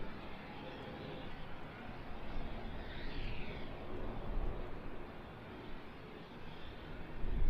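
An airliner arriving at London Luton Airport from Tel Aviv, a broad, distant roar of engines and rushing air that swells in the middle and stays steady, with no voices over it.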